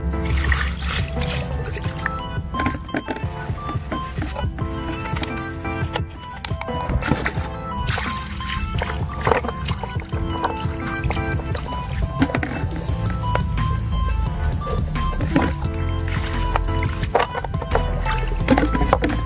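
A rusted knife blade is rinsed under water after rust removal, giving continuous splashing and trickling close by over a steady tonal backing throughout.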